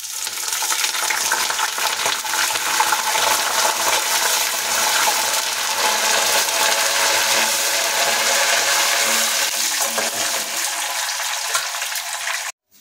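Curry leaves and peanuts frying in hot oil in a pan, a loud, continuous bright sizzle that holds steady throughout and cuts off abruptly at the end.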